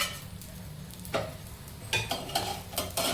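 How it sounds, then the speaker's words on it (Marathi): Paneer methi paratha roasting on a pan, turned from side to side, giving a soft low sizzle under a steady background with a few brief scraping and clinking touches from the utensil. "शेकताना ह्याला आपण भाजताना व्यवस्थित भाजायला पाहिजे चारी बाजू आलटून पालटून"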